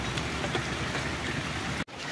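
Heavy rain mixed with hail pours down during a storm in Marrakech, a loud, steady broadband roar close by, cut off abruptly near the end before resuming more faintly.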